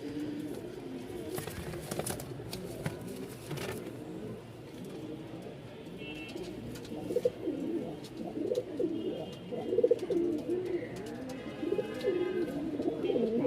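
Soft, low cooing from pet pigeons of fancy breeds repeats steadily over a murmur of background noise, with occasional faint clicks.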